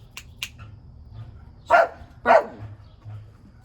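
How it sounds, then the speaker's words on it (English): Two sharp dog barks ring out nearby after a pair of faint clicks, with quiet pauses between. "She's barking because the other dog is barking."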